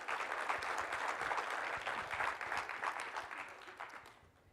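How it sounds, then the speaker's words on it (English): An audience in a school district address gives a round of applause, a dense wash of clapping that holds steady for a few seconds and then tapers off, heard fairly faintly. "Let's give them a big round of applause."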